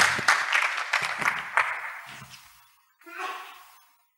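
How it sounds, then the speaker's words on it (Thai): Brief applause from the audience at a Thai panel discussion on innovation cities, a burst of clapping that tapers off to silence, with a short voice rising after the pause. "ขอเสียงปรบมือค่ะ"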